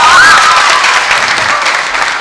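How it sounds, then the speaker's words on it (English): A large audience at the National Schools Debate Championship 2016 gives loud, dense, continuous applause for the winning school team. "Let's give a bigger hand clap to the winners of NSDC 2016, Mengo SS."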